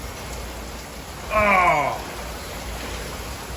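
Heavy, wind-driven thunderstorm rain pours steadily in Henderson, Nevada as a constant broad hiss, while a person lets out a short exclamation partway through.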